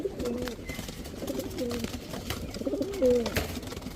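Teddy pigeons coo in a few soft, repeated rolling phrases, close by, over a low background hum with no talking.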